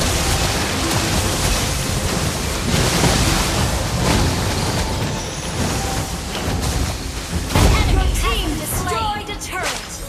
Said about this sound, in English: All these beautiful bodies shattered by the ocean waves